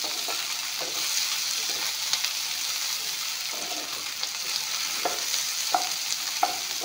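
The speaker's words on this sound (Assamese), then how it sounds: "এতিয়া এইখিনি অলপমান ভাজি ল'ম।" Potato pieces fry in a pan with a steady sizzle while a utensil stirs them, producing periodic scraping clicks over the hiss.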